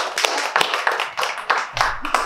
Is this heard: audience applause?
yes